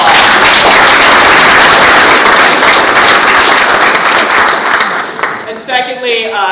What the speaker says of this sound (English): So get yourselves a round of applause.